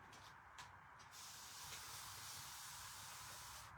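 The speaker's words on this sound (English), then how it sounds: "I'm just going to put that there and spray it." A spray bottle mists cleaner over wood slices in repeated close hissing bursts, the first few short and separate, then a long sustained spray running almost to the end, with a low rumbling background underneath.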